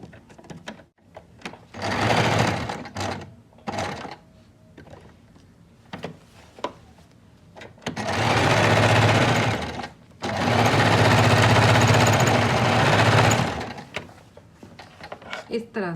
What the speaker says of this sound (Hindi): अब हम इस लूप को इस तरह से रखते हुए इसमें इस तरह से सिलाई लगा लेंगे।